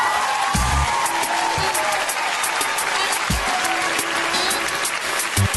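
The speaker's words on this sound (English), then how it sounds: "Give it up for Zayda." A comedy-show audience bursts into applause, clapping and cheering, with a voice speaking loudly over the crowd.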